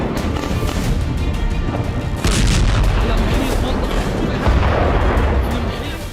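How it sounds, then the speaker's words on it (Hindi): Loud, rumbling explosions from bombing near a hospital in Gaza, a dense continuous roar with heavy low booms swelling in waves, distant and overwhelming. "अस्पताल के पास बड़े धमाके"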